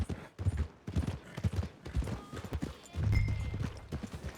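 Horse hooves clip-clop in the western game Red Dead Redemption 2, a steady run of close, distinct hoofbeats with a heavier rumble of movement near the end, no talk.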